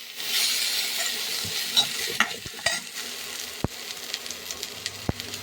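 Onions sautéing in a half-butter, half-oil mix in a pan: a steady, close sizzle broken by sharp clicks and scrapes from stirring, with no voices.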